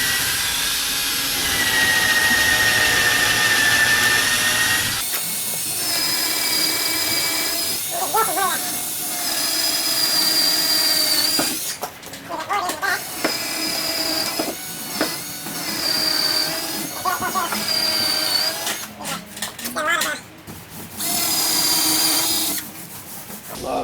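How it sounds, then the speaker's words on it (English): A power drill re-drills old bolt holes in a board mounted on an automotive restoration shop wall, its loud whine running steadily, then broken into short bursts and pauses. "re-drill some holes in it."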